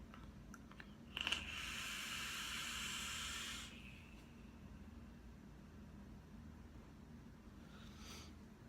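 A vape hit drawn on an Armageddon Apocalypse Gen 2 mod with a freshly wicked RDA, giving a steady hiss of coil and airflow that lasts about two and a half seconds amid quiet room tone, with a fainter puff near the end.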